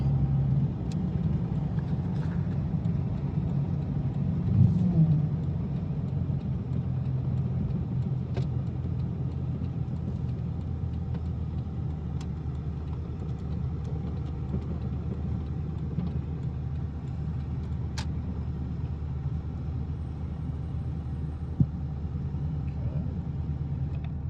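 A 2000 Dodge Ram 2500 4x4 diesel truck with a 47RE/48RE automatic transmission drives at light throttle, a steady low engine rumble inside the cab with little change as it shifts.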